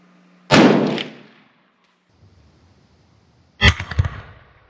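A .308 Winchester rifle fires two separate shots about three seconds apart, each a sharp, loud crack with a short decaying echo, and near silence between them.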